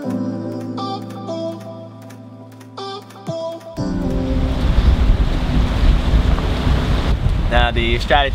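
Wind buffets the microphone and waves wash around a cruising boat idling toward a mooring at Vero Beach, a loud steady roar that bursts in after a quieter opening of music-like tones.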